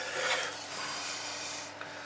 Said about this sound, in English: I usually just do a quick 1 or 2 passes on the sanding block